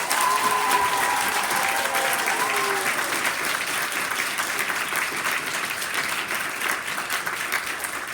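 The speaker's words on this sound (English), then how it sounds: "How about one more round of applause for Myra?" Sustained applause from a school audience celebrating Connecticut's 2020 Kid Governor-elect, many hands clapping evenly and continuously at moderate distance, with a brief voice early on.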